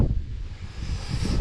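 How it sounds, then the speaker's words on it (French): Gusty wind buffets the microphone outdoors in an open field, a soft broadband rush with low rumbling swells and no voices. "Alors là sur ce champ il y a du vent."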